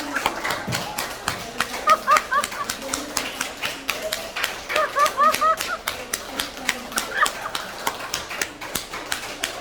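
Audience in a church education session clapping hands as fast as possible, quick uneven bursts of rapid claps with laughter and vocal sounds mixed in, close and moderately loud, rising and falling in waves.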